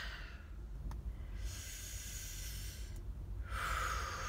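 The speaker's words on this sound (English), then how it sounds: "doing lots of Lamaze breathing" Lamaze breathing, with a slow pattern of long hissing exhales and inhales close to the microphone, soft and alone with no talk.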